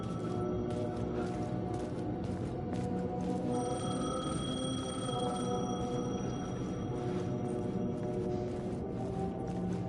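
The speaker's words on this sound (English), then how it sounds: "phone was ringing." A telephone rings in the video game Alan Wake, a repeated electronic ringing tone sounding steadily through ten seconds over a dense, droning ambient game score.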